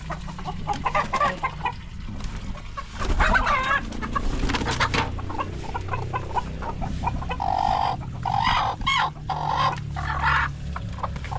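Hens and chicks in a poultry pen clucking and peeping repeatedly over busy farmyard background noise, with some rooster-like calls mixed in and no talk.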